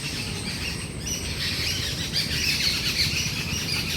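Several birds chirp and call continuously over a steady outdoor background, with no one speaking.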